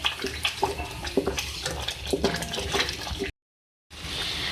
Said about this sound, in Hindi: ये देखिए आप देख सकते हैं ये भून रहा है